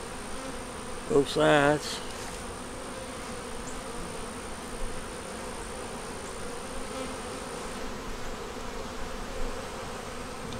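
Honey bees in an opened hive during an inspection, a steady dense buzzing hum throughout with a brief spoken phrase from a nearby voice near the start.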